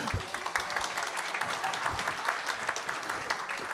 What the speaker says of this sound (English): And this is where you start clapping.